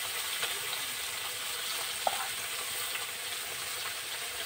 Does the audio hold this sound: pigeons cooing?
no